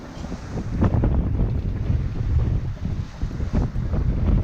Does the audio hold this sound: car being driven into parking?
no